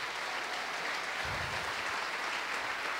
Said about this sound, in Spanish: Podemos darle un fuerte aplauso y decirle a ti la gloria.